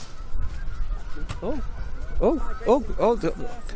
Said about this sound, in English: pink-footed geese are taking off